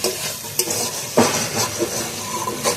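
Boiled kochur loti (taro stolons) stir-fried in a pan with mustard paste and prawn masala: a soft sizzle runs beneath a few clinking spatula strokes and scrapes, close and fairly quiet.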